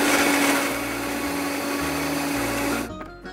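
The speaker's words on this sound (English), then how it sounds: "It's time to blend." A blender whirs steadily as it purées a cheesy sauce, a loud continuous motor drone that cuts off near the end.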